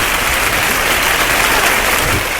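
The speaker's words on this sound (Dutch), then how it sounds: "Applaus." Thick, loud applause from an audience roars continuously through the short stretch, close and even, with no talking on top.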